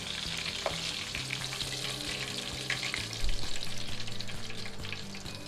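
Steady, loud sizzling of steak frying in butter with garlic in a hot pan, with a rhythmic low clatter of stirring or turning throughout.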